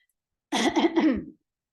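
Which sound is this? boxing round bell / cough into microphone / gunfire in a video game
cough into microphone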